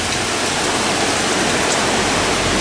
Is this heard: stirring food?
no